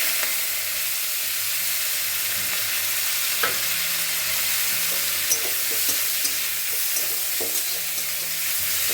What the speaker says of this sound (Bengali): এখন আমি কুচানો পেঁয়াজগুলো দিই।